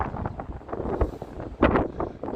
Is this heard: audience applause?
no